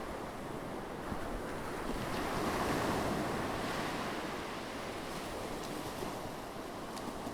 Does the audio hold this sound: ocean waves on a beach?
yes